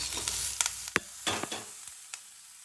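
Broad beans with ginger and garlic cooking in hot oil in a pan, giving a soft, steady sizzle broken by several sharp scrapes and stirring knocks at uneven intervals, fairly quiet and with no talking.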